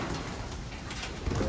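Pigeons coo in a loft, soft repeated throaty calls layered over a busy, noisy background.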